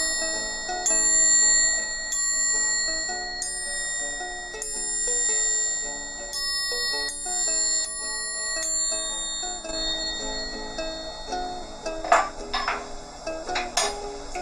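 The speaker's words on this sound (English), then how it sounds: "secure the triangle by pinching it. Tap the long arm gently, perpendicular." Classroom triangle held by a holder and tapped gently on its long arm, giving a series of bright, shimmering metallic rings that overlap and sustain, quiet and close, with a few louder clinks near the end.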